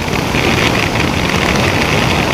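KTM 790 Duke motorcycle engine on a test ride, a continuous loud engine roar mixed with heavy wind rush, steady with no clear revving peaks and no voices.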